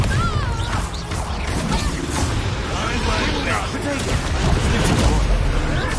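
Bombarda blasting spell cast in the Hogwarts Legacy video game: a dense, continuous barrage of crashing, whooshing magical impacts and booms, loud and busy throughout with no pause.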